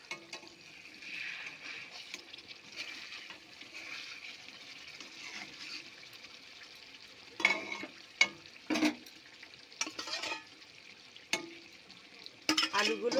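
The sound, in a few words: fried potatoes added to hilsa biryani cooking in pot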